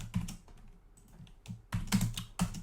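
Computer keyboard typing in bursts of quick, close key clicks, pausing briefly in the middle before resuming with a louder flurry of keystrokes.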